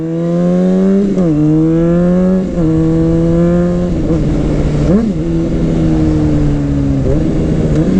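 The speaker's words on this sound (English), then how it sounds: "I love the sound of this CBR" A Honda CBR 600cc sport motorcycle engine revs up loudly and close several times, its pitch climbing and dropping between blips before settling into a steady high drone.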